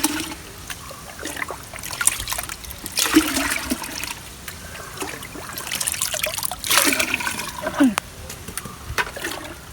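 Diluted homemade plant tonic poured out in a terrace vegetable garden, giving irregular trickling and splashing bursts of liquid, moderately close, with quieter gaps between pours.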